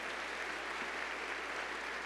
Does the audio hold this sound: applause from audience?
yes